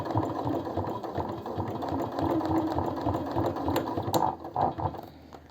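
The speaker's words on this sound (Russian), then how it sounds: "И теперь на крупном стежке попытаюсь ее пристрочить." A home sewing machine stitching black-threaded bias binding onto a fabric pouch made from leftover fabric, sewn on a long stitch setting. The motor whirs with a steady fast rhythmic chatter throughout, close and continuous.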